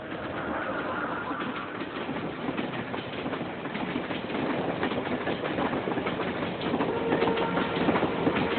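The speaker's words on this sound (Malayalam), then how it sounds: "തുരങ്കങ്ങൾ പിന്നിട്ട് കണ്ണറപ്പാലവും കടന്ന് മീറ്റർ ഗേജ് ട്രെയിൻ അതിന്റെ ചരിത്ര പ്രയാണം തുടരുകയാണ്." A metre gauge train on the Punalur–Shenkottah line crossing an arched bridge, a steady rumble and rhythmic clatter of wheels rolling on through the whole stretch, heard from nearby over faint outdoor background.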